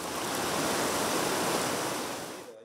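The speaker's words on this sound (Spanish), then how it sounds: "el caudal del río La Chilama seguía su rumbo con mucha fuerza" Floodwater of the swollen La Chilama river after a heavy storm rushes with a powerful current, a loud, steady broadband roar that holds constant before easing off at the very end.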